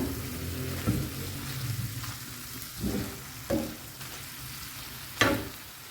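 Tawa chicken with green chillies and fresh coriander sizzling on a hot tawa as it is stirred, a continuous fry broken by several sharp scraping bursts of the spatula at irregular intervals.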